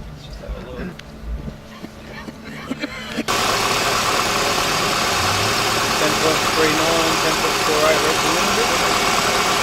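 A car engine idles at about 1,030 rpm with the hood open near the idle air control valve; after a quieter stretch with faint background noise, a steady, loud mechanical hum kicks in and runs evenly to the end.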